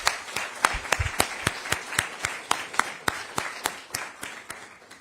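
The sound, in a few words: audience applause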